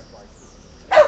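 A dog bursts into a short, loud bark at the very end of the moment, following a stretch of outdoor street noise during a march on Skid Row.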